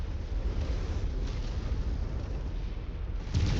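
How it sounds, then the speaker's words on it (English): A missile explosion in the mech combat game MechWarrior 5, a dense, continuous low rumble of blast and debris that swells again near the end, with no talking. "Incoming missile."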